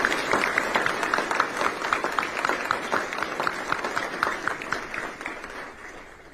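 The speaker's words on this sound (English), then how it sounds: "a round of applause for these amazing humans" A ceremony audience at a Space Force general's retirement gives sustained applause, many hands clapping in a steady rhythm, filling the room before gradually fading away.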